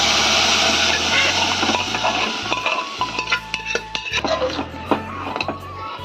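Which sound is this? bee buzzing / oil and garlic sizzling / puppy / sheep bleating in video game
oil and garlic sizzling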